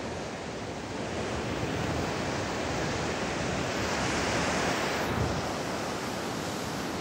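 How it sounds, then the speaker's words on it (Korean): Ocean surf washes onto a sandy shore near Songjeong, heard up close as a continuous broad roar of breaking waves, with a brief surge partway through and no talking. "여러분들 지금 파도하고 좀 가까이 왔습니다"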